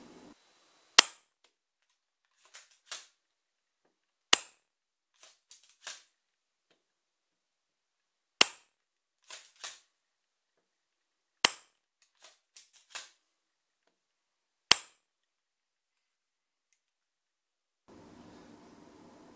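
Several shots from an S&T M870 spring-powered airsoft shotgun, each a sharp, close crack spaced seconds apart, with softer pump-action clacks between shots and quiet gaps, no talk.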